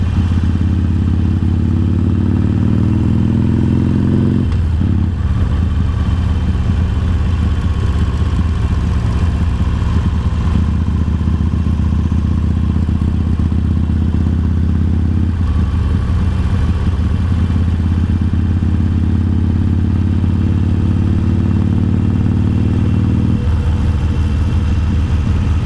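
A Harley-Davidson motorcycle ridden along a main road in Japan, its engine a loud, steady low rumble that drops briefly at a few gear changes before resuming its continuous drone.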